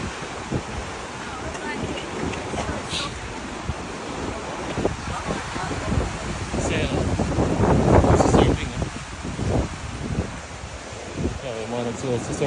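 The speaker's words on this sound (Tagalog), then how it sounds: "Ang lakas ng alon." Strong surf pounds a New Zealand coast during Cyclone Tam while gusty wind buffets the microphone; waves crash and rumble, swelling loudest midway, with people talking over the roar.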